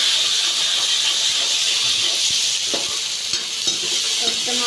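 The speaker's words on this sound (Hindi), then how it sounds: "अब डाल देती हूँ वैसे इसमें टमाटर," Tomatoes sizzle in a hot pan while cooking kadhi in a village kitchen, a loud, dense, continuous hiss with occasional clicks and spoon stirs up close. No one speaks.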